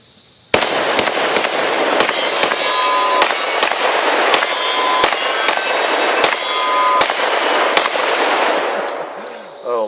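Glock 20 pistol firing 10mm Buffalo Bore heavy hard cast bullets, a rapid string of about fifteen loud, sharp shots with ringing echoes, close by, fired at a fairly steady pace.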